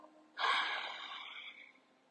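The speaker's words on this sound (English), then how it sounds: "Take a deep breath in and let it go" During chair yoga, one deep exhale through the nose and mouth rushes out close to the microphone, starting abruptly and fading over about a second and a half, with no talking.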